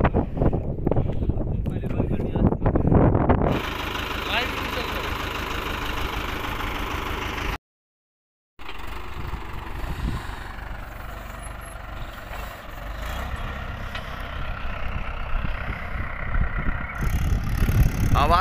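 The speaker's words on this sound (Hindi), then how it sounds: "आवाज सुनिए ट्रैक्टर की, क्या शानदार आवाज है।" A Mahindra 585 DI 50 HP tractor's diesel engine idling with a deep, steady rumble, close by and heavy with wind noise, cutting out briefly midway before the chugging resumes.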